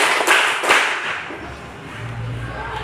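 A classroom of students claps together on a teacher's command: two or three crisp, near-unison claps early on, then the room settles into a low murmur of background noise.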